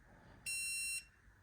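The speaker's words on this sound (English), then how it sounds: "I just heard a beep on my dongle" A single high electronic beep lasting about half a second from a Topdon Topscan OBD2 Bluetooth scan tool dongle, faint and steady over a quiet background hiss.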